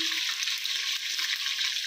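Chicken frying in a pan with garlic-ginger paste just added, a steady loud hiss and sizzle running unbroken throughout with faint stirring.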